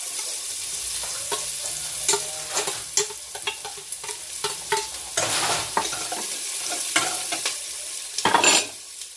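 Onion and ginger sauté in a pan for beef soup, with a steady sizzle of frying broken by repeated scraping and stirring clatter from a utensil, close and fairly clear.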